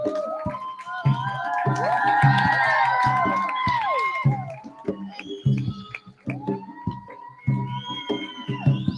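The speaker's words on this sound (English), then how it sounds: "Let's give them another round of applause" A crowd at the Festival of Pacific Arts 2016 closing ceremony cheers and whoops, with shouts and scattered clapping under a loud, rising roar.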